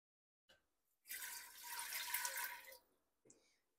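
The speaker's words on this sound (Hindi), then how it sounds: "हम इसके अंदर तीन गिलास पानी डालेंगे" Water is poured into a pot for boiling corn on the cob: a quiet, steady splashing stream lasting about two seconds, alone apart from faint clinks before and after.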